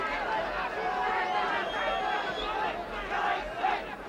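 A boxing arena crowd at a title fight in Mexico City, a continuous roar of cheering and murmur with a commentator talking over it.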